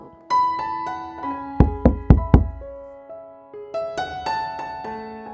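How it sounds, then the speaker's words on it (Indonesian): Knocking on a wooden door in a quiet home at night: four sharp, close raps in quick succession, set between soft sustained musical notes with no talking. "Tiba-tiba terdengar pintu diketuk."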